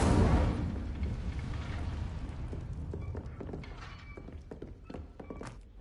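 In Hogwarts Legacy, an Incendio fire spell goes off with a heavy thudding burst that decays into a crackling, flickering fire sound with scattered small pops.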